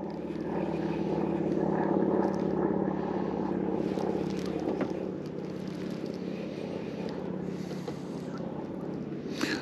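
A light plane drones overhead out in the open during a bream fishing trip as a storm approaches, a steady engine hum with wind noise on the microphone that fades slightly partway through.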